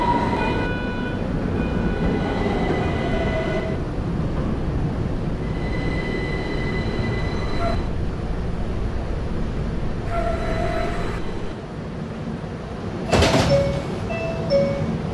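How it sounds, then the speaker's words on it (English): A Roblox Q Express subway train running on the PTA Subway line, with a steady rumbling roll of wheels on track, occasional squealing wheel tones, and a sharp metallic burst near the end, continuous and close throughout. "This is a Westpatop bound Q Express train."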